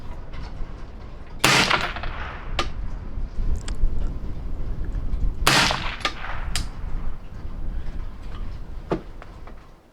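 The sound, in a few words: suppressed rifle shots, 5.56 55 grain, DDC Enticer S suppressor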